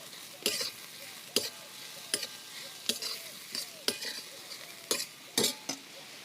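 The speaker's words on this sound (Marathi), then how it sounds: "कांदा भाजून घेते." Onion frying in oil in a pan is stirred with a spatula, giving crisp scraping strokes roughly once a second over a soft, steady sizzle, recorded up close.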